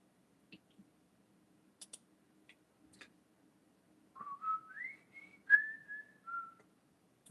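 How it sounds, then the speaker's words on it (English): A person whistles a short, faint, wavering tune in a quiet room, preceded by a few scattered soft clicks, with no talking. "not whistle too much. I might set off a YouTube alarm."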